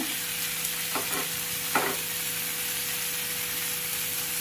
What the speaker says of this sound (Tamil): கொஞ்சம் கொத்தமல்லி தழை, இதையும் இதில் ஆட் பண்ணி நல்லா வதக்கிக்கலாம்